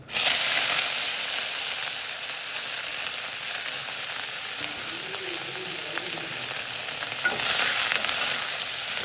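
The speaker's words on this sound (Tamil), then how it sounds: "வெங்காயம், பூண்டு, கருவேப்பிலை 3 ஒன்றா போடணும்." Onion, garlic and curry leaves frying in oil in a very hot, thick kadai, a loud continuous sizzle and hiss throughout, with a brief rise in intensity near the end.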